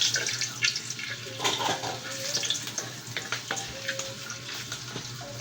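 Leftover rice being stir-fried in hot oil for simple Filipino garlic fried rice, a steady close sizzle with scraping and stirring clatter, plus a faint running-water hiss in the background, no talking.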